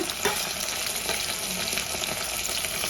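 Goat tripe frying in a pan with ginger garlic paste, a steady dense sizzle and crackle with occasional stirring scrapes, close and continuous with no talk.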